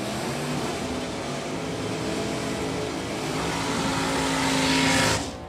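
Super stock race cars roaring down a drag strip at a Division 3 LODRS event, a loud sustained engine drone that swells toward the end and then drops away abruptly, heard from trackside with no voices.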